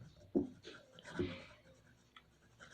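A pen scratches out a short line of writing on paper during a class 8 maths lesson, soft close-up strokes in two small bursts with light taps between, no talking.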